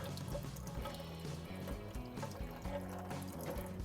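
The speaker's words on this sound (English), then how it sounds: "Run water over the whole casing itself." Tap water runs and splashes over a sausage casing, a quiet continuous gurgling trickle with faint sloshing, no talking.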